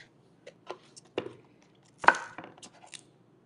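Sharp knife chopping spring onion on a cutting board: several separate dull taps, then a louder cluster of quick chops, close and clear with no talk.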